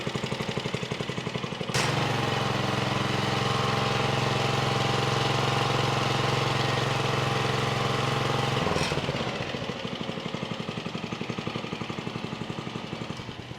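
An Ariens 624 snow blower engine fires after a pull start and runs with a loud, steady chugging drone close by, then cuts back to a lower, rougher idle.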